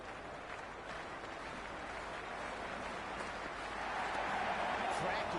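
A cricket stadium crowd at a T20 World Cup match between England and New Zealand, before the first ball, sends up a steady, dense roar of cheering and chatter that grows slightly louder toward the end.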